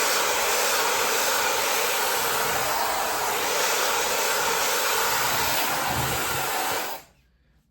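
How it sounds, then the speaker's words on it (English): A 260,000 RPM dual-channel high-speed hair dryer blows with a loud, steady broadband rush for about seven seconds, then cuts off abruptly into near silence. "Super fast and so easy to style my hair with this hair dryer."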